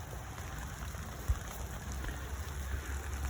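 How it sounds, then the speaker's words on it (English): Rain falls over a vegetable garden with melons, cucumbers and a trellis, a soft, constant patter of drops spread evenly throughout, fairly faint and without voices. "it's raining pretty good out here now"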